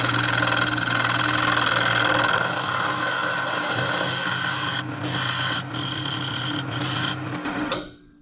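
A wood lathe spins while a tool cuts a dovetail into a turning blank, a steady motor hum with a rough scraping rasp. Short breaks interrupt the cut before the machine stops at the end.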